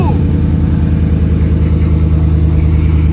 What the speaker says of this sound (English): you want to close the hood and turn on your vehicle